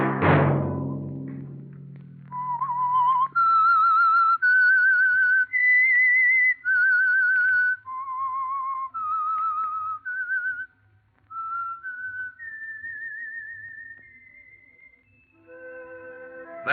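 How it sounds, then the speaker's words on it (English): A lone whistler carries the theme of the radio mystery show The Whistler, a clear, steady melody of sustained notes and gliding pitches lasting over a dozen seconds, loud and close with no voices. "Let that whistle be your signal for the Signal Oil program, The Whistler"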